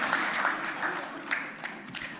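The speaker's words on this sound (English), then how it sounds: "So, a big round of applause for his vision and his efforts." Audience at a conference on Pakistan's power sector breaking into applause, a soft, fairly distant wash of clapping that holds steady for about two seconds.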